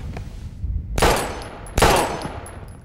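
Two loud, sharp gunshots ring out in the Life Is Strange video game (Episode 5, Polarized), about a second apart, each with a long echoing decay over a low rumbling background and no talk.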